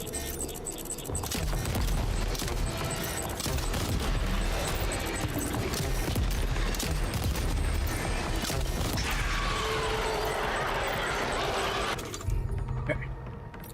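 Launcher weapon firing in a video game amid a dense, loud barrage of blasts and mechanical clatter that runs almost nonstop, with chaotic bursts, then cuts off near the end; a voice talks underneath at times.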